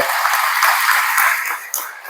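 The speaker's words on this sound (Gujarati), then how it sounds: "એકવાર જોરદાર તાળી દાતા માટે પાડો" An audience at an educational assistance distribution event claps for the donors, a steady wash of hand claps sustained for about two seconds before tapering off near the end.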